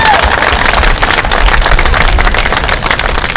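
Dense, steady clapping from a large crowd at a high school sports championship reunion, loud and continuous throughout with no pauses.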